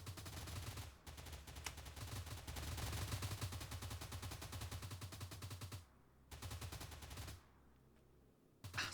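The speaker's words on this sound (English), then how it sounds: "what are y'all shooting at?" Sustained automatic gunfire from the video game S.T.A.L.K.E.R., loud rapid bursts of shots that continue for several seconds, broken by a couple of short pauses near the end.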